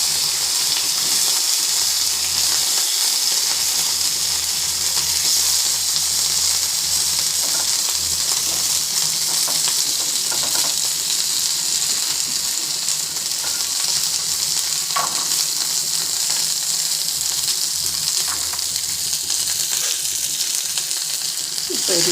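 Fennel seeds and other whole spices frying in hot oil for a brinjal and mango fish curry, a steady close sizzle running throughout with occasional stirring scrapes and no talk.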